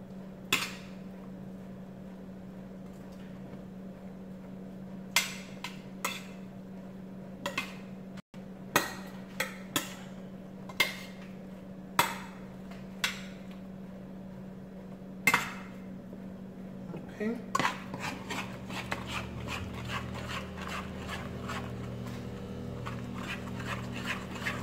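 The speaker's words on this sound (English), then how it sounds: "I'm going to mix the pasta up with the seasonings I added in there." A spoon stirring macaroni pasta with seasonings in a pot, sounding as sparse clinks and scrapes against the metal, scattered at first and then quickening into a busier run of knocks over a low steady hum.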